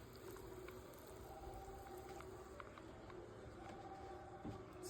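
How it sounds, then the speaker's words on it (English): Chicken leg quarters simmer in a pot on the stove, a steady close bubbling wash with a faint continuous hum underneath and no one speaking. "I also have some leg quarters boiling because I'm gonna pull the meat off of that."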